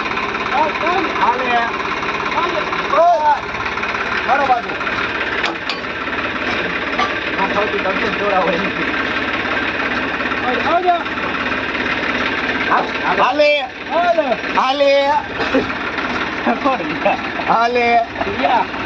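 A tractor engine runs steadily with a low rumbling drone while people talk loudly over it in bursts, as the tractor pulls with a rope to open a JCB 3DX backhoe's swing boom cylinder.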